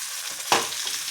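Mackerel tawa-fried in a pan gives a brief, close sizzling burst that flares suddenly and then fades into a soft hiss.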